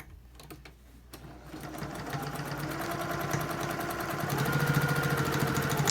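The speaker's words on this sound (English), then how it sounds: "it's going to sew a seam down here on either side, here and here" A sewing machine stitches a seam down the side of a fabric face mask, starting with a few clicks and then running in a fast, steady mechanical whir that gets a little louder near the end, close and with no voices.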